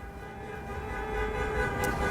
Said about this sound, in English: Lots of cars are honking, driving down Commerce Street.